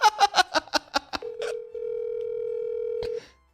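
A telephone call is placed: a quick run of keypad dialing tones, then a steady, unbroken ringing tone for about two seconds before the line cuts off. No one speaks.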